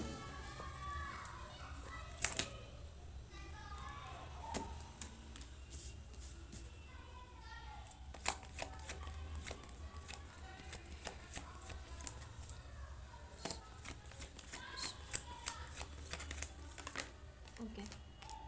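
Tarot cards are shuffled and drawn in a series of light, sharp flicks and taps, scattered and irregular, with faint background sound between them.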